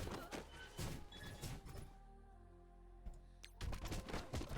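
Explosion in the mobile game Marvel Strike Force, a burst of loud, dense blasts at the start, then a sustained tonal game hum, and another cluster of heavy booming impacts near the end.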